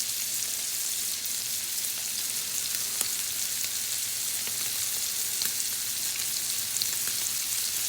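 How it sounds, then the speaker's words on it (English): Scallops sear in a hot pan on high heat, producing a loud, dense, unbroken sizzle with scattered crackling pops and no talk. "we're going to let those sear for about, a couple minutes"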